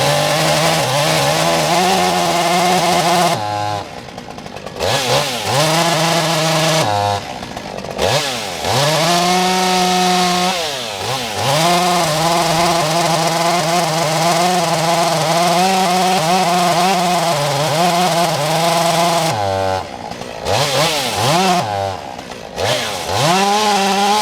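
Chainsaw cutting firewood outdoors in mud, loud and close, engine revving and bogging through repeated cuts with brief idle dips between them, no talk.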